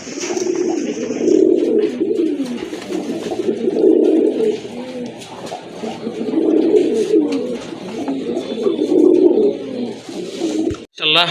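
Pigeons, including a male and red racers, coo repeatedly and loudly close by, their low throaty calls rolling in overlapping waves with brief pauses.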